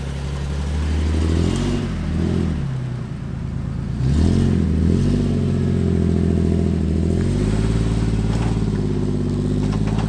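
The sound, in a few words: Jeep Wrangler engine driving off-road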